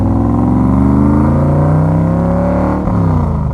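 A Factory Five Cobra roadster accelerates hard, its engine note rising steadily and loudly up close, with a brief gear-change dip near the end before pulling again; no one speaks.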